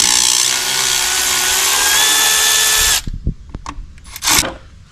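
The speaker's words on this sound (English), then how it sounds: "I'm going to pull the 4 screws out of the air screen" A power drill runs steadily for about three seconds, then stops, followed by a few light clicks and clanks of screws and parts from the air screen of a Scag Cheetah mower with a Briggs & Stratton V-twin engine.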